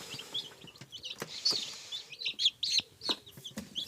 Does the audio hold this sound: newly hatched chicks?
yes